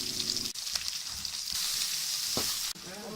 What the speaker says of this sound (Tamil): கடுகு பொரிஞ்சதும் நம்ம எடுத்து வச்சுருக்க வெந்தயம், வெங்காயம், கருவேப்பிலை இது எல்லாத்தையுமே போட்டு நல்லா வதக்குங்க.